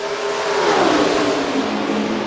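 Race cars accelerating at Indianapolis in NASCAR Racing 2003, a dense continuous engine roar with rising pitch as the pack gets away, loud and steady throughout.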